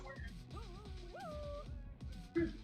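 A dog in The Sims 4 video game giving wavering, rising and falling whines and yips like a short howl, fairly faint game audio with a sharper yelp near the end.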